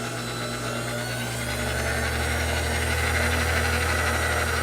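A Kenwood kMix KMX93 stand mixer motor runs with a steady, loud electric hum and whine, constant throughout with a slight vibration.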